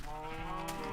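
A short, low, droning moo from cattle in a video game farm pen, one sustained animal call heard close and fairly clear without any talking.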